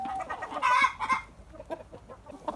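A rooster clucks among hens in a farmyard chicken flock, several close, busy clucks bunched near the start, then quieter scattered calls.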